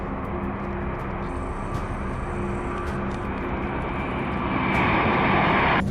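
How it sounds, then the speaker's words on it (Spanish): A Singapore Airlines Airbus A350-900 roars through its takeoff run, a loud, steady broadband jet rush that swells further in the final second, with no voices. "Este Airbus A350-900 de Singapore Airlines genera una hipnotizante condensación en las alas durante el despegue"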